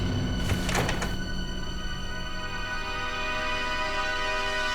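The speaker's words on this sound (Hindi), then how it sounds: "क्या बात है? दरवाजा क्यों तोड़ रहे हो?" A door bangs open in a forced entry, a burst of loud thuds and rattling in the first second, followed by a steady room hum with no talk.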